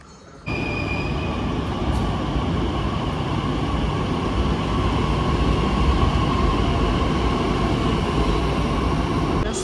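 A train at Pune railway station gives a loud, steady rumble that carries on without a break, close by and filling the whole stretch.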